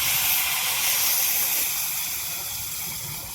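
Hot water poured into a pan of frying dhaba-style chicken curry, a loud, close rush of hissing steam and gushing liquid that slowly eases off over a few seconds.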